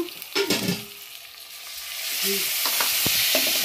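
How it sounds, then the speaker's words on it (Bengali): Spices frying in a pan with a splash of water, stirred close up: a few clattering scrapes, then a rising, steady loud sizzle that fills the rest of the clip. "জল দিয়ে নাড়াচাড়া করে নিচ্ছি। মশলাটা একটু হালকা ভাজা হবে"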